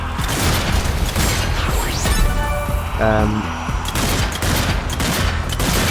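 Gunfire from the zombie shooter video game Zombie Army 4 in horde mode: loud rapid bursts of shots and booms with mechanical clatter, under a voice talking throughout.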